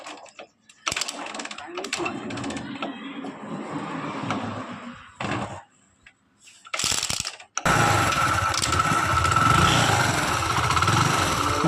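Hero Splendor Plus motorcycle engine with a magnet noise fault, running steadily and loudly up close, with a mechanical whirring and rattling, broken by brief gaps and a sharp jump in level partway through.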